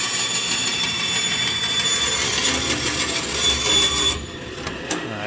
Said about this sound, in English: cutting out an 1/8 inch piece of aluminum for the bracket